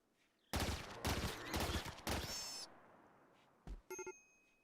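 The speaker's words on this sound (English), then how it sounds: "Go watch him shoot at things." Gunfire from a RimWorld colony fight: several loud, dense bursts of shots in quick succession, then a couple of sharper metallic cracks with ringing tails after a pause, no talking.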